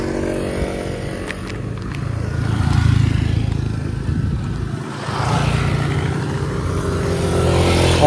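Cars climbing a steep hill road on Koh Phangan, engines droning nearby in a steady rising and falling rumble with no voices.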